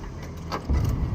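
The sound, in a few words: car driving up a street in VR content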